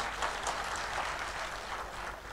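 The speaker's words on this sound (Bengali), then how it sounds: "তার জন্য জোরে একটা হাততালি।" Applause from an audience at an entrepreneurs' conference and anniversary event: a steady, dense wash of clapping from many hands, sustained and even for the whole stretch.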